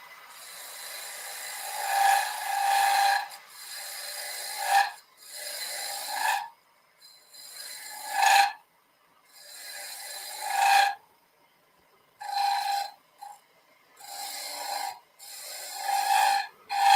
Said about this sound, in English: we'll take that little bit away with the gouge